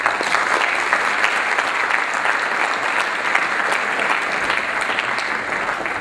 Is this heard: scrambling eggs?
no